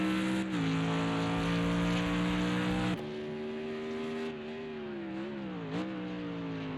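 GT3 race car in a racing video game at Mount Panorama Bathurst, its engine droning loud and close in a steady tone, then braking hard with the pitch dropping and wavering as it slows through a corner.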